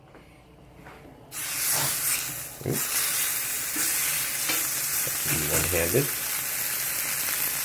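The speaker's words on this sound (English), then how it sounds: "just give them a quick sear in a very hot pan" New York strip steaks sear in a very hot pan with a loud, steady sizzle that swells as the meat hits the surface, a few clanks of handling, and a brief voice at the start.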